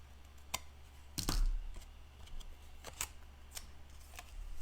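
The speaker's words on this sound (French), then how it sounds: "On va couper ça." Scissors cut paper for a pocket album craft, producing a few sharp, separate snips with quiet handling sounds between them.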